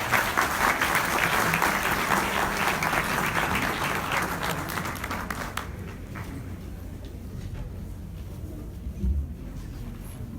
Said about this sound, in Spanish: Muchos aplausos para los ponentes, por favor.